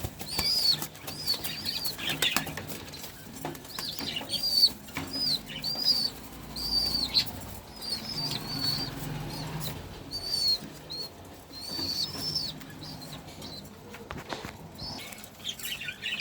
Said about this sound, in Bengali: আমার এই এক জোড়া কবুতর